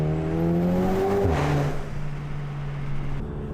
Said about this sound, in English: You can probably hear the intake in the front too.